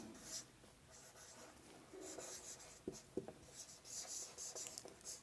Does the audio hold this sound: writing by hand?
yes